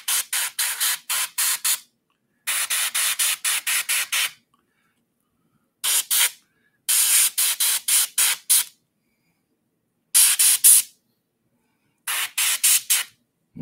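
Spray paint hisses from an aerosol can onto a painted figure in bursts of rapid short puffs, grouped into six clusters with silent pauses between, loud and close.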